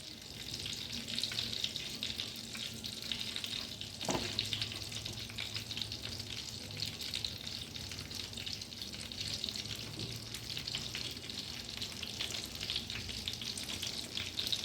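A chicken burger patty fries in butter in a pan, giving a steady, close sizzle that carries on without a break, with one brief knock partway through.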